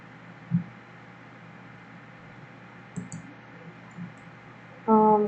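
A computer mouse gives a few soft, isolated clicks, quiet and close, spaced apart over a faint steady hum, followed by a brief louder tone at the end.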